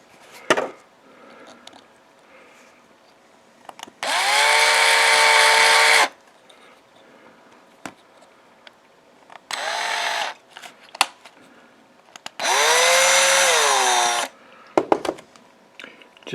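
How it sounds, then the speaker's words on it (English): A power drill bores out a part for a small single-motor robot in three separate bursts of a few seconds each, loud and close, with quiet handling clicks and knocks between them. "So we'll drill this one out."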